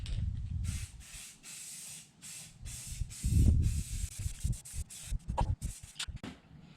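Primer from a Rust-Oleum spray can is sprayed onto the inside of an antique toolbox in a series of short, close hissing bursts separated by brief pauses.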